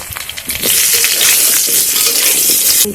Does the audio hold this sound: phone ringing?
no